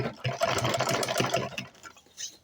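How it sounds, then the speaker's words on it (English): A sewing machine stitches the fabric of a lined hand bag in a short, close, steady whirring run that fades off toward the end. "So I'm going to sew this like this, okay?"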